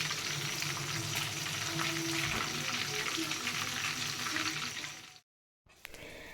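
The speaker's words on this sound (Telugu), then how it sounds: "20 మినిట్స్ మ్యారినేట్ చేసి పెట్టుకున్న చికెన్ బాగా డీప్ ఫ్రై చేసుకోవాలి" Marinated chicken and onions deep frying in hot oil for biryani, a steady loud sizzle and crackle that cuts out abruptly near the end before a faint resumption; no talking.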